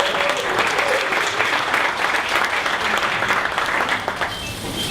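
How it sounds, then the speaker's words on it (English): A large audience at a 1 Million Cups startup morning event gives a big, steady round of applause, dense clapping that holds strong for the whole stretch and only starts to thin toward the very end. "give a big round of applause"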